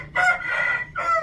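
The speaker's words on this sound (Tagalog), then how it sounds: "Mag-interrupt talaga yung manok." A rooster crows loudly and close by in two bursts, one long call followed by a shorter one, with no other sound competing.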